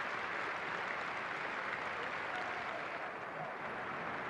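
Crowd applause at an FA Youth Cup semi-final football match between Aston Villa and Manchester United, for a substituted young Manchester United player; steady, distant clapping from the stands, faint and unbroken.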